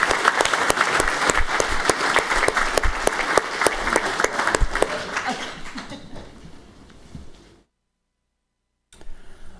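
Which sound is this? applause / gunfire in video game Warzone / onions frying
applause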